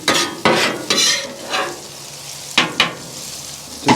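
Fried onions are stirred and pushed across a hot griddle, with sharp scraping bursts of the spatula repeating at irregular intervals over a soft, steady sizzle, close up and with no talking.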